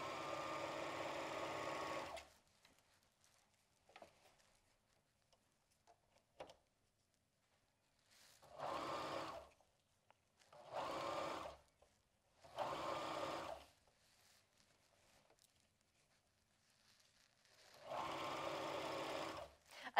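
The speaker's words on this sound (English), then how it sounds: "you can do it even pin-free like I'm doing here" Sewing machine stitching elastic onto a swimsuit without pins, five separate bursts of steady whirring separated by pauses, close and clear.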